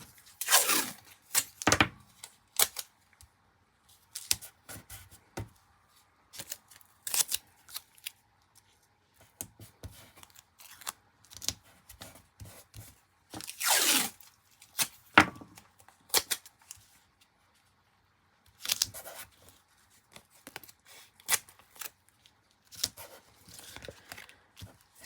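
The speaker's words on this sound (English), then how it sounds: "then I'll go over it with tape to secure the whole thing" Tape is torn and pressed down to secure paper pieces in a repeat-pattern layout, heard as scattered close, sharp ripping and crinkling bursts with quiet gaps between them.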